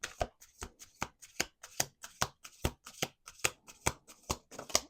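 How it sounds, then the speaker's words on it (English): Tarot cards being shuffled by hand in steady repeated riffles, about a dozen crisp papery bursts in a row, close and fairly loud with no talking. "Let's do 2 more shuffles."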